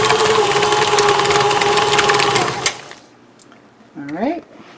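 An electric mixer whirs steadily for nearly three seconds as it beats a dill pickle and pimento cheese dip, then shuts off abruptly, followed by a brief voice.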